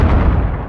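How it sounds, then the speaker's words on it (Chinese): An explosion sound effect for a war scene, a single loud, deep, rumbling boom that fills the low end and decays over less than a second. "爆炸的声音"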